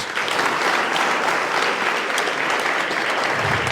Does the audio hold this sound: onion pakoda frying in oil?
no